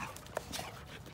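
Dogs in a workshop where storage drawers for a truck bed are being built, making a brief soft whimper and yip, faint and close.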